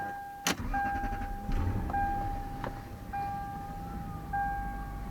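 Lexus LS 400 starting up and idling after an air filter replacement, with a sharp click, a steady electronic chime tone repeating at intervals, and a low engine rumble running throughout, heard close inside the car.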